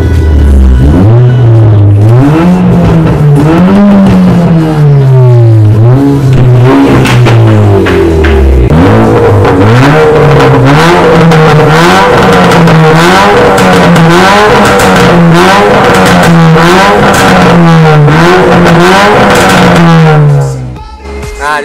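Modified 2018 Honda Brio engine revving hard and continuously, its pitch rising and falling in repeated waves; loud and close, with no talking until it drops off at the end.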